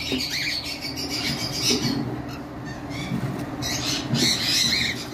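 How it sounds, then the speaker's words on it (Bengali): Pet birds on a balcony at a bird farm, a dense chorus of overlapping squawks and chirps, close and fairly loud, continuing throughout. "এবার আসি, আমাদের বারান্দার পাখিগুলো দেখাচ্ছি।"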